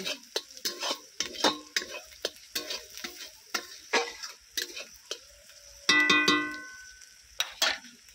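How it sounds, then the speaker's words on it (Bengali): Chili and turmeric powder stirred and sautéed with ginger-garlic masala for a rohu fish kalia, with a soft sizzle under steady spoon scrapes and taps. A brief metallic clatter rings out near the end. "লঙ্কা গুঁড়ো, হলুদ গুঁড়োটাও খুব ভালো করে মশলার সঙ্গে কষিয়ে নেব।"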